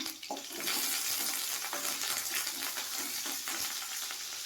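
Onions and curry leaves fry in a hot pan for a Tamil dried-fish water curry, giving a loud, steady sizzle throughout with a few stirring scrapes, no voices.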